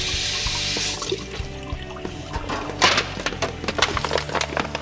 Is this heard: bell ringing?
no